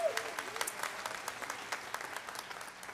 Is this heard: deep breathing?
no